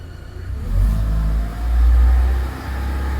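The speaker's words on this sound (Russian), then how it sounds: "Добавляем оборотов." Car engine revved with the clutch pressed, from a car with a whistle between gearbox and engine, loud and close, rising in two surges of throttle with a deep rumble and a faint higher whine.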